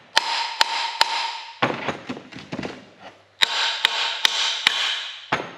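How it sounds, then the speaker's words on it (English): Heavy hammer blows ring out on a metal turbocharger in two bursts of repeated strikes, with clattering and knocking in the pause between them. "currently hitting a turbo with a significantly sized hammer"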